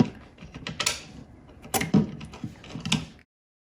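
Screws being driven back through a bond flange into a RodKat shower tray, uneven scraping and ratcheting clicks in short close bursts, fairly quiet, ending in silence.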